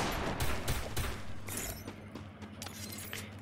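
Gunfire in the Free Fire mobile battle royale game during a ranked match on the Kalahari map: dense, crackling bursts of rapid shots that run steadily through the clip with no voices over them.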